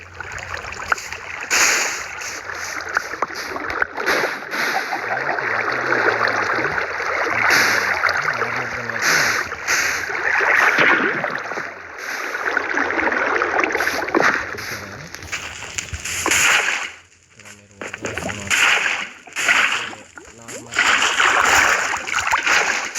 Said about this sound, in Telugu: వాటర్ ఇంకా లావా మిక్స్ అయ్యేటప్పుడు ఆబ్సిడియన్ వస్తుంది అన్నమాట.